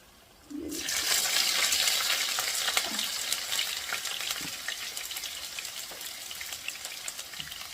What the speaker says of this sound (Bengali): কয়েকটা শুকনো মরিচ দিব তারপরে আমি আগে থেকেই এই যে রসুন আর পেঁয়াজ কুচি করে রেখেছিলাম